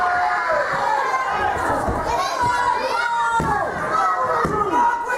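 Wrestling crowd at a live show reacting loudly to a low-blow kick behind the referee's back, a dense wash of shouts, jeers and chatter with higher-pitched voices prominent.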